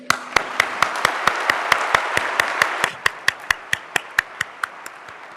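Audience clapping at a university student awards and recognition ceremony in Nairobi: a burst of full-room applause settles into steady, evenly spaced unison claps, each crack sharp and close, continuing in a regular beat.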